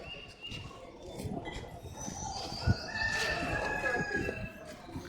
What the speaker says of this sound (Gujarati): કુકડો બોલે